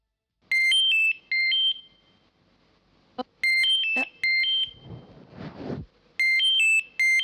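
A phone ringtone plays in repeated bright electronic bursts, loud and close, pausing briefly between rings with a few clicks and rustling in the gap.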